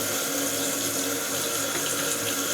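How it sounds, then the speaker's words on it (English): A newly installed toilet flushes with a loud, continuous rush of water that stays steady and close for the whole stretch, with no talking. "how many times have I flushed the toilet now?"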